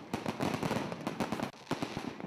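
Diwali firecrackers bursting in rapid, irregular succession, a dense crackle of sharp bangs close by and loud, with a brief lull midway before the popping resumes.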